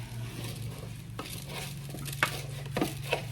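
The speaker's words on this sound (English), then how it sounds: "To make sure all the rice is mixed in with the meat." Spoon stirring rice into meat in a pan for stuffed zucchini, a soft continuous scraping and sizzle with a few sharper clicks of utensil against the pan near the end, no talking.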